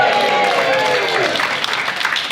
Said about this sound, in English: Can we give that a cheer,